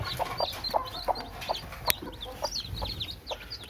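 A brooding first-time hen clucks in short, repeated bursts at a close, even pace, with a few sharper high notes between them.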